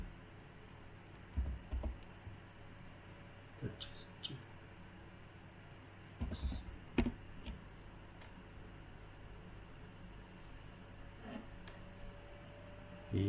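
Brief bursts of keyboard typing on a computer, entering a command to reach a Starlink statistics page, come in scattered short clusters with quiet gaps between them, while someone speaks over much of the sound.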